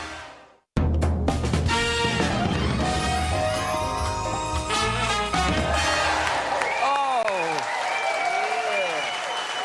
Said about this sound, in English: The sound of applause